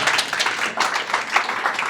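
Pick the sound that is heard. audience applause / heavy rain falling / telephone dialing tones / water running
audience applause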